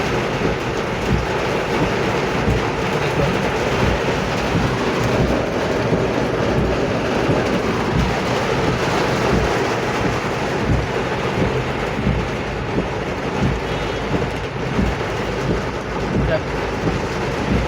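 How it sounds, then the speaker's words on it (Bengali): Heavy rain pours on a road in Dhaka, a dense continuous roar of downpour with low rumbling underneath, steady and loud throughout. "দেখুন আমি আছি এখন হলো কুড়িল বিশ্ব রোডে দেখেন কী পরিমাণ বৃষ্টি হচ্ছে"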